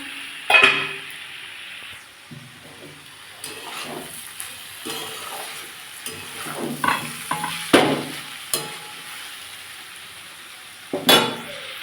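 Radish and potato curry (mulo ghanto) sautéing in a pan while being stirred, with a steady close sizzle broken by repeated scraping strokes and occasional clinks of the spatula against the pan, no talking.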